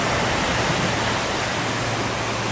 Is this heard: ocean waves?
yes